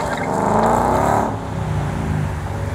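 A muscle car engine at a car show, a Saleen Mustang with a Roush 5-liter, revs hard and loud close by, then the throttle drops back to a rumbling idle for the last second and a half.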